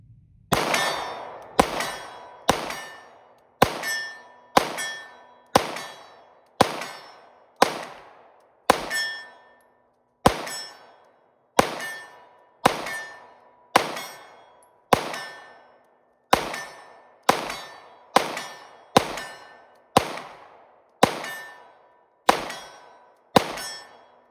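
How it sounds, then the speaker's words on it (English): A Jacob Grey TWC Hex 1911 pistol fires at 12 by 20 inch steel targets 40 yards away: about twenty loud, sharp shots at a steady pace, each followed by a ringing metallic clang that fades, with no talking. "we have the Jacob Gray TWC Hex here at 40 yards. We're shooting 12 by 20 steel."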